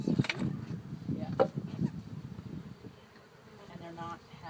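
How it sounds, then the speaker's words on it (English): Honeybees buzz close by during a hive inspection at a farm apiary, a dense hum swelling and fading with occasional knocks, while a person talks near the hive. "I got too many bees over here on this side"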